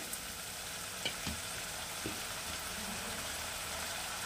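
Chicken with spices for green-chilli chicken sautés in a pan over a high flame, giving a steady, fairly faint sizzling hiss with a couple of light stirring scrapes and no talk.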